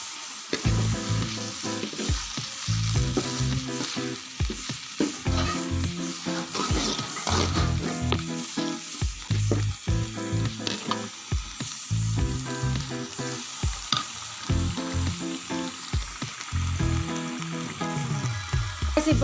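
Chicken fries in hot oil with salt until dry, a steady, loud crackling sizzle with bursts of spattering and occasional stirring scrapes throughout.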